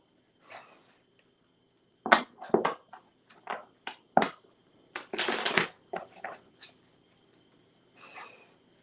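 Tarot cards shuffled close by in quick bursts of riffling and rubbing, ending with a softer slide as one card is pulled, with no voice.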